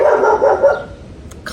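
A dog gives a few quick, loud barks up close, followed by quieter short noises.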